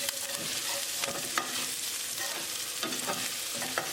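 Garlic and ginger sizzle in a hot pan and are stirred, with a steady quiet frying hiss broken by scraping strokes, and no talking.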